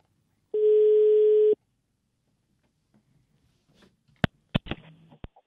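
A telephone line after the other party hangs up gives one steady, clear electronic tone lasting about a second, then a few faint clicks and sharp handling knocks near the end.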